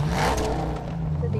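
Car engine in a multiplayer battle royale video game, a steady low droning hum with some revving, moderately loud and continuous.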